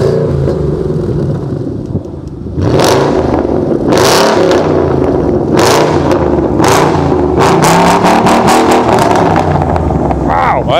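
A NASCAR race car engine roars and revs repeatedly in loud, sharp bursts, close by, with voices talking over the noise.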